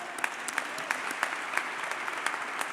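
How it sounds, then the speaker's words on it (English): A crowd at an Atlanta youth initiative launch event applauds steadily, with dense continuous clapping at an even level throughout. "We want them, we can clap for that."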